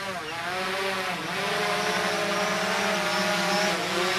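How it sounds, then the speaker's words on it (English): A DJI Phantom 4 Pro quadcopter fitted with landing skids hovers close by as it comes in to land, its steady whining rotor buzz loud and continuous with rising and falling harmonic tones. "Now I'm going to land the drone."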